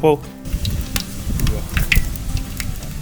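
Whole spices (shahi cumin, cloves, star anise, cardamom pods and cinnamon stick) sizzle in hot oil for a mutton curry, a close, crackling fry with light stirring clinks while a voice talks over it.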